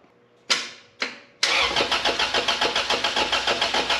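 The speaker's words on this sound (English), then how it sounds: "I think it's gonna start, so let's start it up." A 1992 Honda EG hatchback with a swapped B20 engine, run on a P06 ECU with the ignition bypassed, gives two short cranking bursts and then catches on the third. It settles into a loud, close, lumpy idle with a steady pulsing rhythm.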